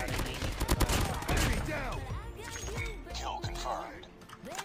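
Bursts of rapid gunfire ring out in the video game Call of Duty Mobile, loud and dense at first and then thinning out, with a voice speaking over the shots.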